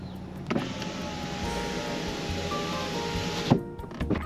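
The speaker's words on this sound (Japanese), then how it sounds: "窓の開閉の操作音を聞いてみたいと思います。" The electric window motor of a new Volkswagen Golf 8 eTSI R-Line, 1.5-litre petrol, whirs steadily for several seconds, with a thunk as the glass seats, then a few small clicks afterward.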